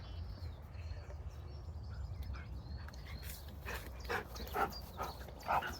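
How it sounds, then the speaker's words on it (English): Dogs playing with a ball outdoors, with a few short yips and scuffling bursts over a steady low rumble of wind or background noise, moderately distant and fairly faint. "Letting the dogs play with the ball before we move on."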